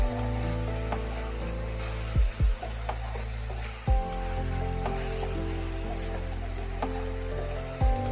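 Bengali-style spinach fries in a pan as the last of its water cooks off, giving a steady sizzle with a few sharp knocks from stirring scattered through.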